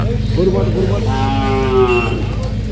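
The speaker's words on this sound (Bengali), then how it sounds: "দেখুন গরু আসছে সব। কত গরু আসছে দেখো, সুন্দর সুন্দর।" A single drawn-out cow moo rises at a busy cattle market, carrying clearly over a steady crowd and background din.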